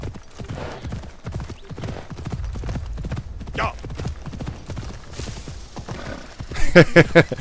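Horse hooves clip-clop in the video game Assassin's Creed Shadows, a quick run of loud, close steps near the end after a long stretch of talking.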